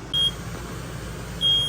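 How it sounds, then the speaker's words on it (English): A smoke alarm set off by burning foam gives two short, sharp electronic beeps about a second apart over a low background hum. "All right, so smoke alarm works."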